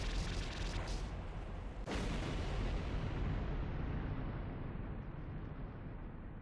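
Bombs exploding on a boss in the shoot-'em-up game Rolling Gunner, dense rumbling blasts with a sharp burst near the start, then a long roaring explosion that slowly fades, with no voices.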